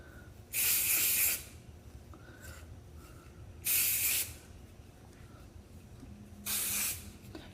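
Kenra Platinum Dry Texture Spray misted onto hair in three bursts of about a second each, a bright close hiss with short quiet pauses between.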